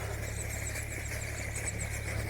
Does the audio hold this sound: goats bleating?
no